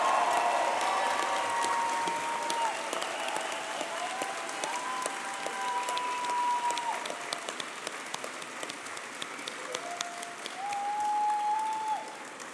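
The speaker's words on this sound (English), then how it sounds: "how about one more big resounding applause for the class of 2030?" Graduating medical students' class at a white coat ceremony receives sustained, moderately loud applause from a seated audience, many hands clapping evenly with occasional whoops and cheers rising over it.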